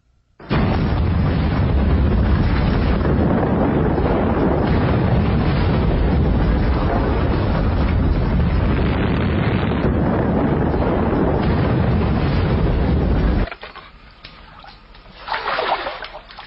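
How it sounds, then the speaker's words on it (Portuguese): Massive volcanic eruption of Toba in Sumatra rendered as a loud, continuous roaring blast that rumbles for over ten seconds before abruptly dropping to a low rumble with a later swell. "A erupção do Grande Toba na Sumatra há 74 mil anos foi a maior explosão ocorrida nos últimos 2 milhões de anos."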